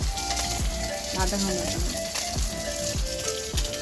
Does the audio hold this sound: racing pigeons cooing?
no